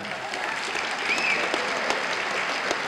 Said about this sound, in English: Please give these families a round of applause.